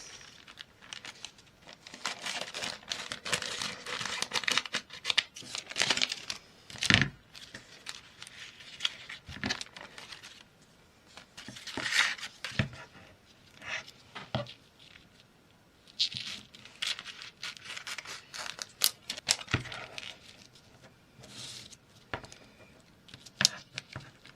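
Plastic bags, one of them sealed, are handled and crinkled at close range for a mixed-media craft piece, giving bursts of crackly rustling and crumpling that come and go in uneven clusters.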